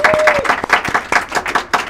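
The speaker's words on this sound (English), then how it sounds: "Let's give them a round of applause" Studio audience applause for the St. Mary Catholic girls basketball team on a varsity sports roundtable show: loud, uneven individual claps from a small group, with a faint tone and some voices mixed in.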